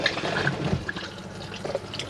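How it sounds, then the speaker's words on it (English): Electric toilet flush in a Chausson Titanium 628 motorhome: water runs and drips into the bowl with a faint gurgle, close and moderately loud, without talk. "you'll be able to press this blue button at the back, which is your electric flush"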